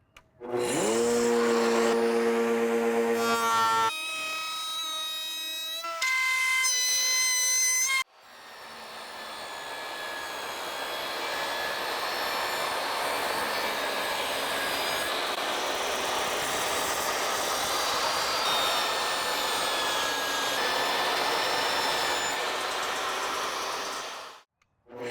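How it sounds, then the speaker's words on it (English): Router-style back cutter shaping wooden raised panels: a loud, close whine with brief stops and restarts, then a long continuous cut of roaring, rushing noise that winds down at the end. "I'm gonna go ahead and start cutting these raised panels"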